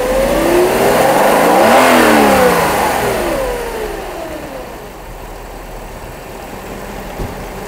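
A Mercedes-Benz W124 engine revs up hard to a high, rising whine, then falls back and settles into a low idle.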